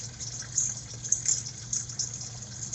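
Water flushing out of a line into a bucket, a steady splashing gush with a hissing spray, fairly close and continuous, with no talk.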